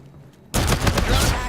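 Full-auto fire from the R3KT assault rifle in a video game, a loud sustained burst of rapid shots that starts abruptly after a short quiet moment and keeps rattling to the end.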